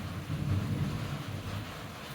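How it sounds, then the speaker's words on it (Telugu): A steady, low rumbling wash of heavy rain outdoors in Hyderabad, with deep thunder-like rumble underneath, constant and moderately loud. "బయట వర్షం దంచి కొడుతుంది హైదరాబాద్లో."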